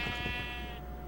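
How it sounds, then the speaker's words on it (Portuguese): A sheep bleats in Minecraft, a single drawn-out synthetic bleat over a steady buzzing game background, close and fairly clear, with no talking. "Eu matei a ovelha sem querer"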